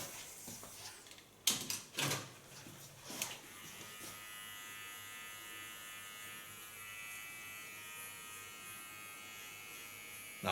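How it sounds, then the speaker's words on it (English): A small electric hair clipper buzzes steadily and close up while cleaning the contour line of a short haircut, after a few brief handling knocks at the start. "Clean the contour line with my small clipper."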